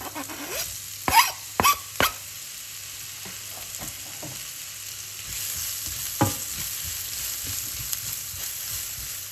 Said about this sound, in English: That's in the same oil, by the way, because you've got all that flavour just waiting to burst. We are now going to add the onion.